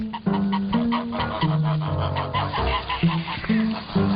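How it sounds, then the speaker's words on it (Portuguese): A flock of geese being herded in a medieval farm setting honks and clucks loudly and close, with overlapping calls in an irregular, busy chorus. "E os gansos eram levados para o mercado."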